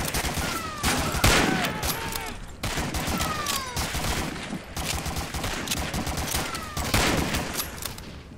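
Dense gunfire from Medal of Honor: Allied Assault Spearhead, rapid fusillades of overlapping shots and automatic bursts, loud and continuous with brief pauses, distant-to-near battle clatter.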